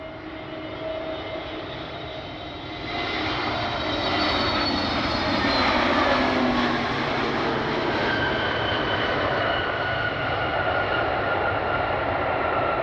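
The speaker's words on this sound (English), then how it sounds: "Frontier Flight 2968 inbound from Phoenix." A Frontier Airlines jet airliner flies in to land, its engine roar swelling from a distant rumble to a loud, sustained whine and holding steady overhead.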